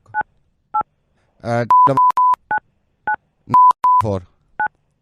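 Telephone keypad dialing tones from a prank-call radio show, a string of short two-note DTMF beeps in uneven rhythm, loud and close, with brief bursts of talk between the keypresses.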